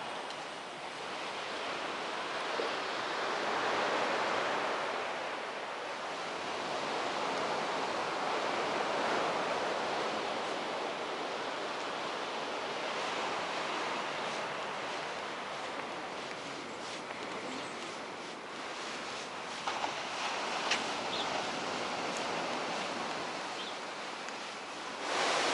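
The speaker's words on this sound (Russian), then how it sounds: "Шум волн, он всегда спасает" Sea waves washing onto the shore at Sudak, Crimea, in winter, a steady broad surf wash swelling and receding continuously, fairly close, with some wind and no talk.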